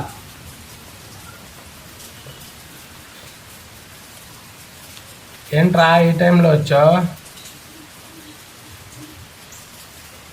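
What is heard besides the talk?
heavy rain falling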